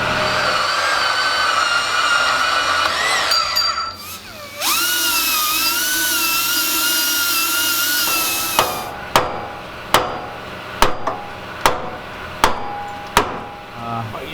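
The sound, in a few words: power tool cutting a Mustang suspension part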